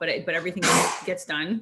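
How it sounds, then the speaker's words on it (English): A single sharp sneeze bursts out in the background of a conversation, briefly interrupting a woman's ongoing speech before she carries on talking. "sneezing in the background"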